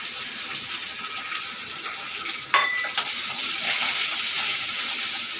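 Small onions and curry leaves fry in oil in a pan, making a steady, close hiss of sizzling with a couple of brief clicks partway through.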